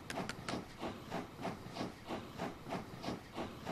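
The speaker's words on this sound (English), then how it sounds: "I want to go take the train to Umballa" A steam train in the video game Kim chuffs in a regular rhythm of hissing puffs, repeating about every third of a second at moderate level, with no speech.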